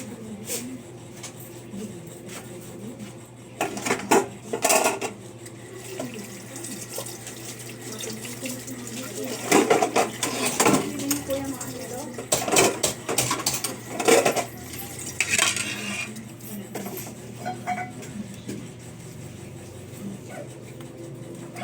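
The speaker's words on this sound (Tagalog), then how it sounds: "maghugas tayo ng plato" Dishes being washed at a kitchen sink under a running tap, water streaming steadily with scattered clinks of plates and utensils knocking together, loudest in bursts, close by and with no talk.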